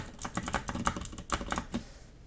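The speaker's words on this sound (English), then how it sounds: "But they'll sound different bottoming out. I don't have any rubbers behind the keys" Metal keycaps bottom out on a keyboard with no rubber dampers behind the keys, a quick run of sharp, bright clacks in an uneven typing rhythm, close and fairly quiet.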